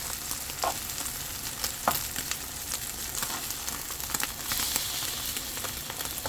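Egg and green onion frying in a pan, a steady close sizzle with occasional crackles and scraping stirs, no voices over it.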